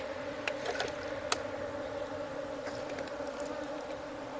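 Apis cerana honeybee colony buzzing during a hive transfer at a well: a faint, steady insect drone with a few sharp clicks and taps over it, and no talking.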